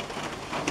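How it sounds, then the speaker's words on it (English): Steady rain patters down close by, a faint continuous hiss of drops with a couple of slightly louder splashes and no voices. "as long as I'm sitting here stuck in the rain"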